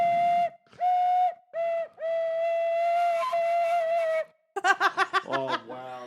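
A wooden Peruvian quena flute in poor condition sounds a few breathy sustained whistling notes with short gaps, then turns into a rapid series of squeaky, broken bursts, loud and close.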